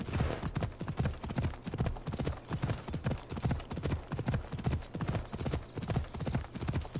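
A horse ridden in Assassin's Creed Odyssey clip-clops along at a steady trot, its hoofbeats rhythmic and even over low background game ambience.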